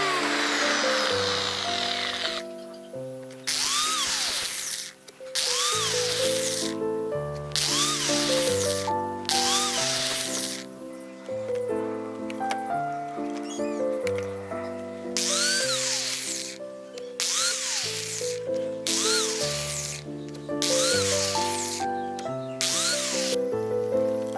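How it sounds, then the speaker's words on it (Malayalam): An electric drill bores holes into a plastic pipe in about ten repeated bursts, each a whirring whine that spins up and dies away, with short pauses in between. "ഇതുപോലത്തെ ഡ്രില്ലിംഗ് മെഷീൻ ഉപയോഗിച്ച് ഞാൻ ഹോൾ ചെയ്ത് കൊടുക്കുന്നുണ്ട്"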